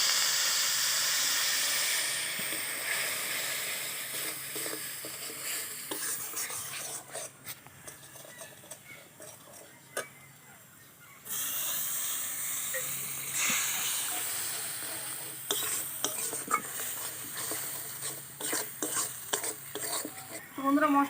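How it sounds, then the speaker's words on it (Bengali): Spice paste with turmeric, salt and a little water being sautéed for an egg curry, a close hissing sizzle with repeated scraping stirs that drops away briefly midway, then returns with clicking spoon strokes and no voices. "একটু জল দিয়ে ভালো করে মশলাটা কষিয়ে নিই।"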